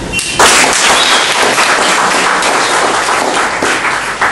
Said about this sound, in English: I think we should give a round of applause for it.